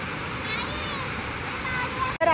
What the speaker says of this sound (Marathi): आलोय धबधबा बघायला.